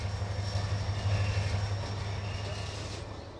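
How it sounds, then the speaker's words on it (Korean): Old coal train rolling slowly along railway tracks, a steady low rumble and drone that holds throughout at moderate loudness, alone without voices. "석탄 산업이 활발했던 시절 분주히 다녔던 이 기차는 이제 추억 속을 느리게 달리고 있다"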